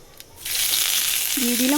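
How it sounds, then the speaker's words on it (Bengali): Black cumin seeds hit hot oil in a wok and burst into a bright, steady sizzle that starts abruptly and holds loud and close, with a faint tonal whine creeping in at the end. "এবার কড়াইতে তেল দিয়ে আমি কালো জিরে ফোড়ন দিয়ে দিলাম"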